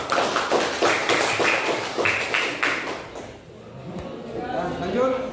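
A classroom gives a group of students a round of applause, with rhythmic clapping for about three seconds that fades into murmuring voices.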